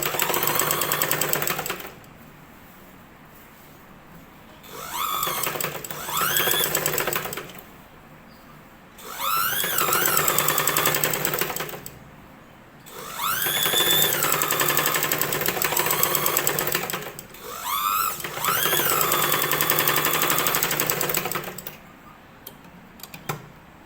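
A sewing machine stitches the back part of a blouse in several bursts of rapid, rhythmic needle chatter, each running a few seconds and separated by quiet pauses, close and clear with no voices.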